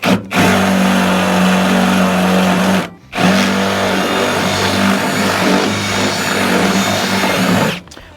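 A power drill bores out an aluminum rivet set in a steel body panel of a Ford Ranger or Mazda B4000 door. It gives a loud, steady whining buzz in two long bursts, split by a brief pause.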